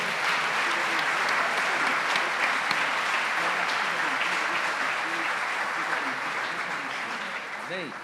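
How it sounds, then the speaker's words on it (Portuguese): A church congregation applauds during an evening service, steady and sustained clapping with voices and some singing or exclamations mixed underneath, easing slightly toward the end. "Aplauda o nome do Senhor."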